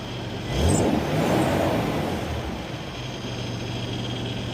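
A Toyota 4Runner engine revs up once and then settles back to a steady idle, heard close and loud under a constant background hum, with no one talking.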